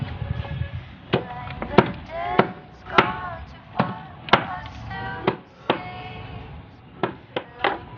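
Sharp chopping strikes cut through the roots of pulled garden weeds, about a dozen close, irregular thwacks spaced a half-second or so apart, with faint talk in the background.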